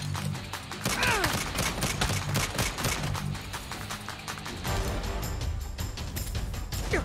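Pistol fire in Saints Row pops in rapid, repeated shots over a dense game mix of explosions and clatter, loud and continuous with a voice faintly underneath.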